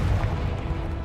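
Confringo blasting spell explosion in the video game Hogwarts Legacy, a loud booming blast with a rumbling low-end crash that decays over about a second, heard alone and close.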